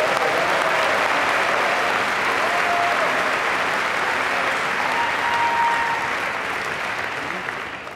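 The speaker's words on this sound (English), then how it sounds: "Please join me in another round of applause." Sustained audience applause fills a large hall at a business school diploma ceremony, steady and dense from start to finish without letting up.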